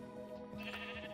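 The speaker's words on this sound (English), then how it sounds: "Dude, there was a dancing sheep there." Sheep bleating in Minecraft, a single quiet wavering bleat with faint background game sound and no voices.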